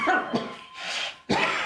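Three harsh coughs come in quick succession, close and loud, with brief gaps between them.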